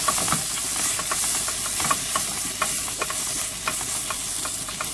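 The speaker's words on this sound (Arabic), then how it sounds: "ناخد نصها تقريبا، ونقلبهم، نشوحها شويه" Garlic, coriander and black pepper sizzle steadily in a pan for an okra dish while a utensil stirs, with frequent small scrapes and clicks over the continuous close frying hiss and no talking.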